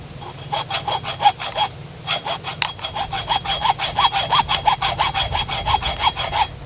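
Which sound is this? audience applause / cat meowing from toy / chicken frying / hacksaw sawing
hacksaw sawing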